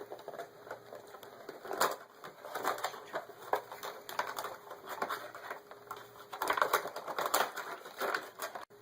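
A Funko Pop figure box is opened up close, with a run of small crinkling, tapping and cardboard-scraping sounds in quiet surroundings.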